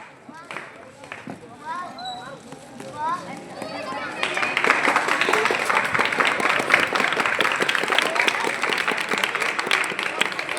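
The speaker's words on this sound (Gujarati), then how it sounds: "આપણે નિશાબેનને ફરીથી તાળીઓના નાદથી વધાવીએ." Audience clapping welcomes a guest at a village primary school's Republic Day celebration. Children's voices and an announcer come first, then a broad, steady burst of clapping builds and carries on to the end.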